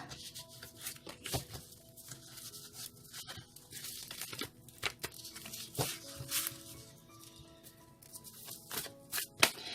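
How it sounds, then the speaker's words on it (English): Tarot cards get shuffled again near the microphone, with repeated dry papery flicks and crinkling rustles arriving in uneven bursts, fairly quiet but continuous. "I'm sensing one more shuffle."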